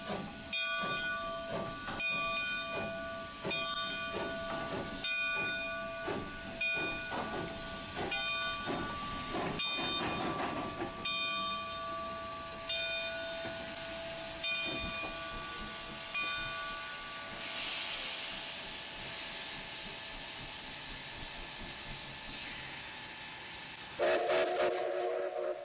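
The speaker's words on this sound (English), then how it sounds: "The locomotive went under its first steam test in Oregon." McCloud #25 steam locomotive on test in Oregon, its sustained whistle blowing in repeated long blasts over hissing steam and rumbling, with a sharper burst near the end.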